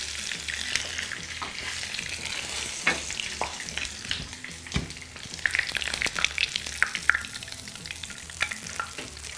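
Continuous close-up sizzling and bubbling of chicken in hot oil, with sharp pops and crackles scattered irregularly across the whole stretch.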